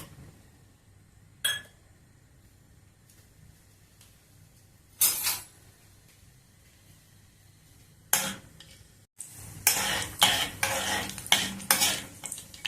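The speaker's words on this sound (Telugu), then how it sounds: "మసాలాలన్నీ వేగిపోయినాయి." Whole spices frying in hot oil in a kadai, heard as scattered stirring clinks and scrapes against the pan with short bursts of sizzle that grow busier toward the end, close and fairly quiet.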